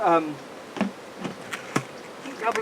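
Honey bees buzzing at a hive fed with an Ashforth feeder, a close, uneven buzz broken by sharp knocks and clicks, with a brief voice at the start.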